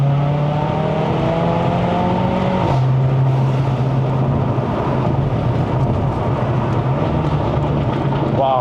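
A tuned Stage 2 Mercedes-AMG CLA45 (C117) accelerates hard on a mountain road, its engine droning loud and near, a gear change dropping the pitch before it climbs again, with a voice talking over the engine noise.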